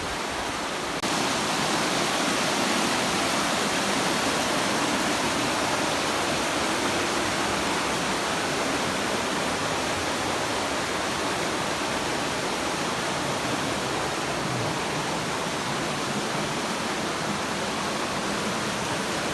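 An Appalachian river rushes past rocks along a hiking trail, producing a constant loud broadband roar of flowing water that holds steady with no voices.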